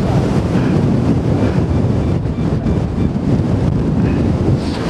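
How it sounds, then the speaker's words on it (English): Strong wind gusts hard on the rocky summit of Tryfan in Snowdonia, a continuous loud roar buffeting the microphone with no pauses. "it's gusting to about 70 miles an hour according to the forecast"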